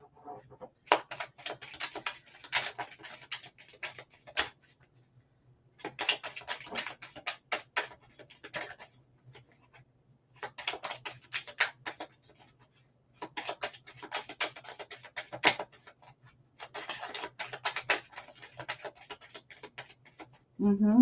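Five bursts of rapid, crackling card riffles, each lasting a couple of seconds with short pauses between, close by and moderately loud.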